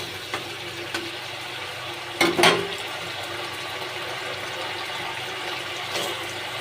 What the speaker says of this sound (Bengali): এবার আমি জলটা একটু দিয়ে দেবো, অল্প করে একটা।